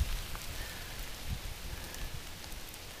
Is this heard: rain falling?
yes